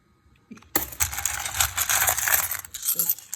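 Loose coins pour and clatter against one another during coin collecting, a dense metallic jingling that starts abruptly and runs for a couple of seconds before a few scattered clinks.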